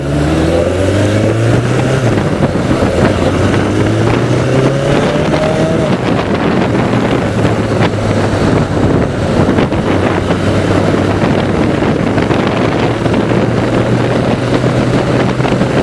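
A 1988 Yamaha FJ600 600cc sportbike being ridden, its engine note rising and falling through gear changes under heavy, steady wind rush, loud and continuous with no talking.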